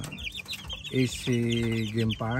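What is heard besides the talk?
chicks at a game farm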